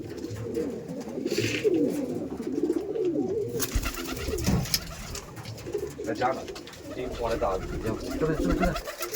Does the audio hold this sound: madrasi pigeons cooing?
yes